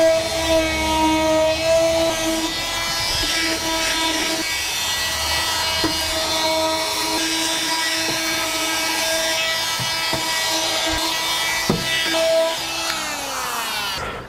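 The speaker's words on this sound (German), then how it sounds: "einmal schleifen, wie gesagt 80er Papier, habe hier dieses Multimaster" An oscillating multi-tool with 80-grit paper buzzes loudly and steadily against a Douglas fir decking board, with a rough rasping texture and occasional knocks, close up and uninterrupted.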